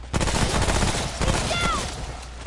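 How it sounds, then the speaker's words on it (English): Rapid bursts of SMG fire in the shooter game Remnant: From the Ashes, loud and continuous across the clip, with a few brief tonal whistles layered over the shots midway. "this SMG is a medium to short range weapon"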